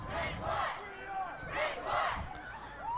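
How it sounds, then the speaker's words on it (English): A high school soccer crowd at a boys' state championship game shouts and cheers in surging waves to fire up its players, the roars rising and falling in two big swells with scattered voices between. "And the Ridgewood crowd trying to get their players fired up a little bit."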